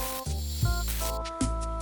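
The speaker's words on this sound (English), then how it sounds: "I think it's time to weld the diff." A race mower's differential being welded up close, giving a steady crackling sizzle over a humming, buzzing drone with brief shifts in tone through the short stretch.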